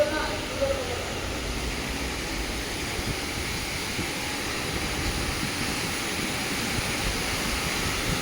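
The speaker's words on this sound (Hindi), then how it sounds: "काफ़ी प्रेशर से गिरा है जिसकी वजह से बहुत प्यारी पानी की आवाज़ आ रही है" Water gushes down under strong pressure at a Bangalore site, a steady broadband rushing hiss that continues evenly at moderate loudness.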